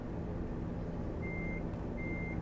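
A semi-truck in American Truck Simulator, set to automatic with a faulty gear lever, runs with a steady low engine drone while two short high warning beeps sound over it, with no talking.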